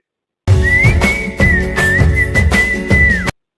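Melodic human whistling from a Tamil song, a steady high sustained tune over rhythmic instrumental backing, with brief pauses before the music cuts off.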